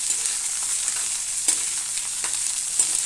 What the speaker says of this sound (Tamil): இதை கொஞ்சம் எண்ணெயில் போட்டு வதக்கி எடுத்துக்கணும்